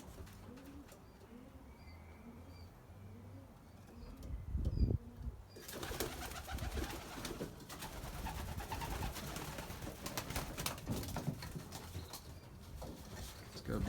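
Pigeons in a racing loft coo softly, then a burst of wings flapping swells into a steady rustle of movement, close and moderately loud, with someone talking over parts of it.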